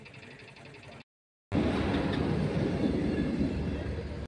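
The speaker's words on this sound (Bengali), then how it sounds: "ট্রেন আসছে।" A train approaches on a railway line near Madarihat in north Bengal, a loud broad rumbling roar that rises suddenly after a brief gap and holds steady.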